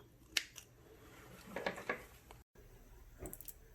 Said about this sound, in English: I'm gonna just clip them off with my mini scissors here.